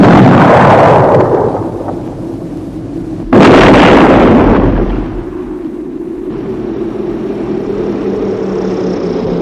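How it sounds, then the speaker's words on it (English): A big gun fires with a loud booming blast that rolls away, then a second sharp report strikes partway through and decays into a low rumble, with no voices. "What are they firing at?"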